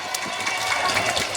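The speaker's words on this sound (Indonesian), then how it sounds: "ada pengen dengar suara tepuk tangan yang meriah dari kita dua semuanya" An audience of women at a live music performance claps in a brief, steady, dense burst of applause with crowd noise mixed in.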